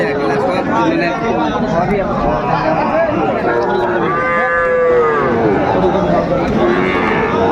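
Sahiwal-breed bull calves and other cattle low at a crowded livestock market in Dinajpur, one long moo standing out mid-way above steady crowd chatter and people talking nearby.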